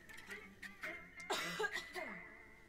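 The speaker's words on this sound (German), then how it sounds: "ich muss mal kurz husten" A man gives a few throaty coughs and clears his throat, close to the microphone at a modest level, with a bit of talk around them.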